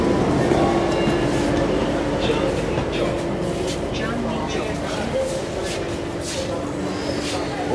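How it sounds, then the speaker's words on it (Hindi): Metro train arriving at and running through a station in Delhi, a steady rumbling rail drone with faint clatter throughout, while people talk over it. "तो हाँ जी हमारी मेट्रो आ चुकी है, तो अभी हम मेट्रो में चलते हैं।"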